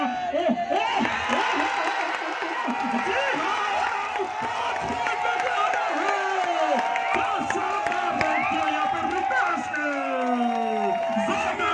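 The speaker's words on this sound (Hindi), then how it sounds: "तालियां बजा दी गई यहाँ पे रितेश के लिए" Spectators at a kabaddi league match applaud and cheer, a steady crowd roar with shouts and whoops that lasts throughout while a commentator talks over it.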